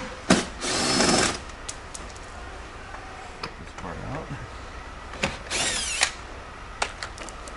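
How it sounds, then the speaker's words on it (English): A power drill backs bolts out of a metal sleeper sofa frame in several short bursts of whirring, one longer run near the start, with faint clicks and handling noises between, fairly quiet and close. "So when I take these bolts off"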